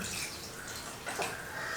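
Water pouring into a pot of okra curry, a steady soft splashing wash that swells briefly midway, close by and fairly quiet.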